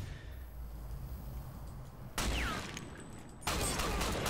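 In the video game Ghost Recon Online, gunshots cut sharply through a quiet backdrop: a low rumble, then two loud, abrupt blasts a little over a second apart, each trailing off into noisy echo.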